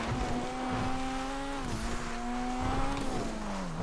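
Race cars in GTA FiveM lap Cayo Perico with a steady, loud engine drone whose pitch holds, dips, then climbs again, over faint tire noise; no one speaks.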